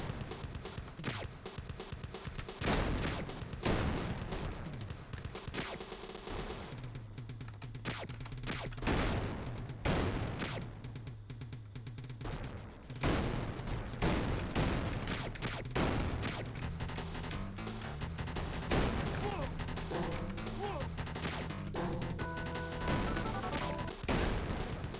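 Arcade-style gunfire and explosive booms from the G.I. Joe arcade game pound in rapid bursts over electronic game music and tones, loud and busy throughout.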